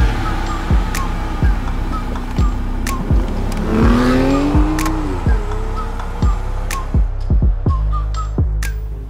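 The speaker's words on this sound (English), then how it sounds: "Let me know if you like the sound of my car." A car engine hums and revs over a steady rumble, with a rising whine midway and some sharp clicks and thumps around it.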